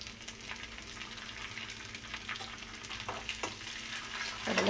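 Curry leaves and onions fry in hot oil for a chickpea curry, giving a soft, continuous sizzle with scattered crackles and no talking.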